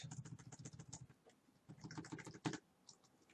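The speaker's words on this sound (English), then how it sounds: "So I'm gonna type" Quiet, rapid clicking of keys on a computer keyboard, in two short bursts of typing separated by a brief pause.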